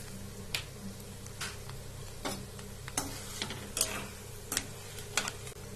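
Mustard seeds and asafoetida crackle in hot oil for temple-style puliyotharai, with sharp scattered pops and ticks over a steady low frying hiss, close and alone.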